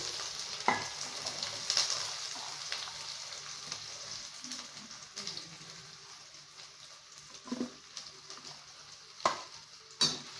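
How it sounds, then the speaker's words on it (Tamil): Chopped onions sizzle and crackle steadily in oil in a pan, with a few sharp clinks of a utensil stirring, close and moderately loud. "வெங்காயம் இந்த அளவுக்கு நல்லா வதக்கணும் எண்ணெயில்"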